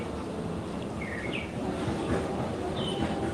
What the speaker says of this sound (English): You guys hear the bird?